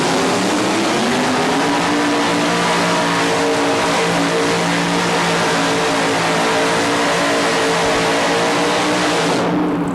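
A racing truck engine drones loud and steady at the 1987 TNT Charlotte event, holding a sustained, slightly rising pitch for about ten seconds before cutting off abruptly at the very end, with no talking.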